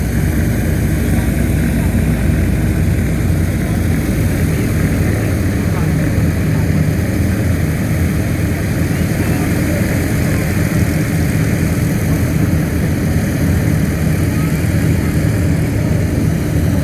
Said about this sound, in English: that continuous stream of aircraft, not just in the air but taxiing in